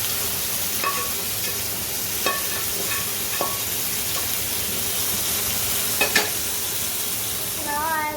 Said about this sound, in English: Mix the onion with the tomato puree.